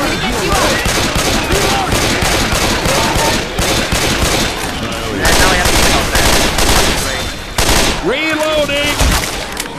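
Rapid bursts of automatic gunfire fill a Left 4 Dead 2 shipyard level, loud and nearly continuous, with brief breaks and game sound effects layered over the shooting.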